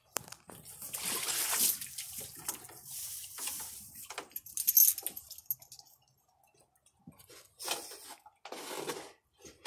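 A black and white paint mare plays in water, making intermittent splashes and sloshing in several bursts separated by near-silent pauses, moderately close and fairly faint.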